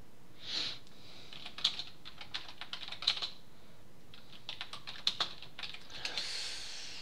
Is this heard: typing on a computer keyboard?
yes